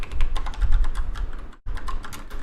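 Fast, steady typing on a computer keyboard, with dense clicking keystrokes close by that stop briefly for a moment and then resume.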